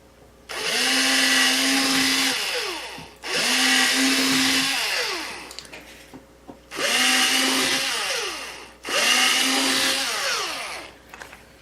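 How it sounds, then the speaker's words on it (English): A power drill bores out rivets on a case handle in four loud, sustained bursts separated by short pauses. The motor whines steadily during each burst and dips as it bites into the metal. "So we drilled all those out."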